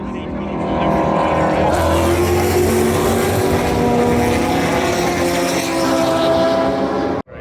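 Race cars roar past on a track, including an Audi RS3, a loud sustained engine drone with a rising and falling pitch, close by, before cutting off abruptly at the end.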